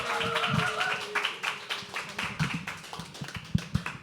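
Audience clapping to welcome a performer on stage at a live poetry open mic, a burst of scattered hand claps that thins into a few loud, separate claps, with a little crowd chatter underneath.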